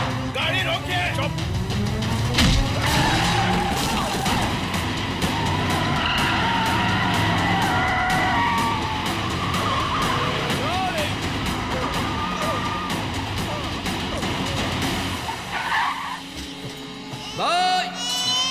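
Tires squeal as a car skids to a stop in a dubbed action film scene, a long screeching slide over roaring engine noise and frantic shouting voices, ending in a sharp burst of sound.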